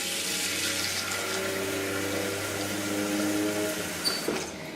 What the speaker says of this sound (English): And I do see I need a little more water there.